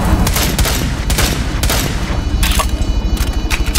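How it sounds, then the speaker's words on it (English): Gunfire in Rainbow Six Siege on the Chalet map rings out in loud, close bursts of rapid shots, some clustered like automatic fire, with no talk over it. "I'm missing so many of my shots."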